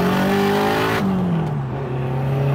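Four-cylinder car with a six-speed manual pulling hard in second gear, loud close engine note climbing in pitch, a brief dip around a shift, then a steady rising drone.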